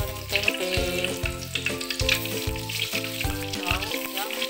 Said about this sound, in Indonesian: Lanjut goreng tempe.